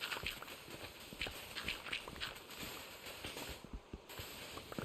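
Horse hooves clop along at a walking pace in a survival video game, a steady run of soft, fairly faint footfalls over a hissing background.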